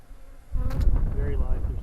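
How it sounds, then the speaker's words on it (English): Bees buzzing near beehives, a low insect drone that starts abruptly partway through and then holds steady and fairly close, with a few loose bees rather than a dense cluster. "there's a couple of bees up here, but it's not clusters of bees"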